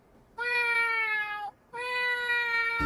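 A person imitates a cat's meow, giving two long drawn-out meows separated by a short pause, clear and close with no other sound around them.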